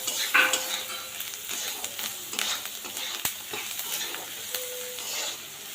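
Kande pohe with fresh coriander being stirred in a pan: a soft continuous sizzle under repeated scraping and tapping of a spoon against the pan, with a sharp clink midway.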